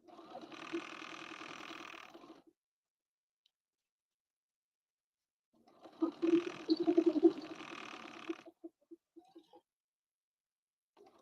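Sewing machine backstitching a seam on jeans, two close bursts of rapid mechanical stitching separated by a quiet pause, the second ending in a few slow single stitches.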